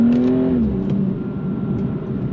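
A BMW 235i six-cylinder engine, 326 horsepower, rear-wheel drive, pulls hard close by, its tone dropping at an immediate gear change before it keeps accelerating.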